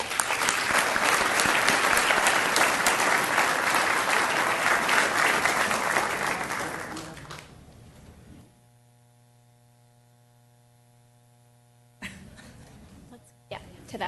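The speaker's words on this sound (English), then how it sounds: "we would ask for her parents to stand so we can give them a round of applause" Board meeting attendees applaud a student's parents, a dense burst of clapping lasting about seven seconds that trails off into quiet with a low electrical hum; a brief sound returns near the end.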